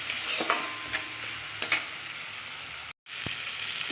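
Turmeric and ginger fry in oil in a pan for an ilish fish curry with kalonji and brinjal, a steady close sizzle broken by spatula scrapes and stirring clicks, with a brief dropout near the end.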